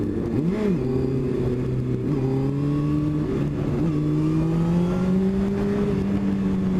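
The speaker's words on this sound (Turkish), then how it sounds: "Makine ses geliyor ya makineden." A 2017 Honda CBR 600 RR motorcycle engine idles and revs with rising and falling pitch, steady and fairly loud throughout, with no talk over it.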